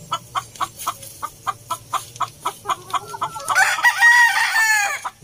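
Chickens cluck in a rapid, regular series of short calls, then a rooster crows loudly near the end, close and clear with no talking.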